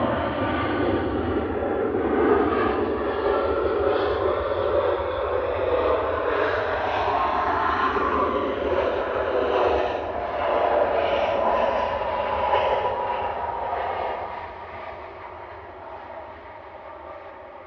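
Ryanair Boeing 737 MAX 8 arriving at Manchester Airport from Porto, a loud sustained jet roar with broad whine that holds steady for most of the pass, then eases off as the aircraft moves away.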